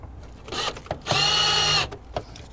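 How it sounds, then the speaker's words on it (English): A power drill bores a screw hole underneath a 2000 Jeep Cherokee, running in two close bursts: a short whine, then a longer steady high-pitched spin of about a second. "Little tip when you're drilling"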